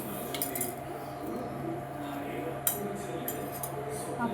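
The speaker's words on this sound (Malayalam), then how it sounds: "അപ്പു എപ്പോഴാ പാത്രം കഴുകാൻ പഠിച്ചേ?" A child washes dishes, with soft clinks of cutlery and a few sharper knocks of pots and plates over quiet background noise.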